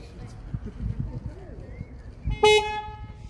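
A car horn sounds one loud, sustained blast in a shop setting after a stretch of footsteps and low chatter.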